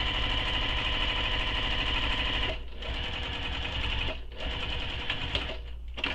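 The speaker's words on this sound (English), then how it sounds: "we're going to top stitch down that edge using the seam allowance given in the pattern." A sewing machine top stitches along the edge of a wristlet seam, running as a loud, steady mechanical whir with two brief pauses before resuming, and no talking.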